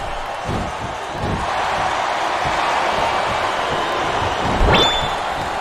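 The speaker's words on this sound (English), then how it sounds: "it sounds like this capacity crowd has something on their minds" A capacity arena crowd in WWE SmackDown vs. Raw 2008 roars in a steady, dense wash during a wrestling match, with a brief sharp impact near the end.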